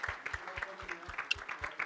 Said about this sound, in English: a round of applause to Mike.